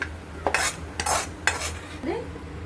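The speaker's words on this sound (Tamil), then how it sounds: "தேங்காய் நல்லா வறு வதக்கிக்கணும்" A spoon scrapes and stirs grated coconut roasting in ghee in a pan, giving several bright scraping strokes with a faint sizzle underneath and no talk.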